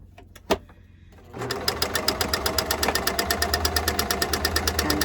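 Sewing machine stitching around the edge of fabric, starting after a brief click and then running in a steady, rapid rhythmic chatter close by, with no talking.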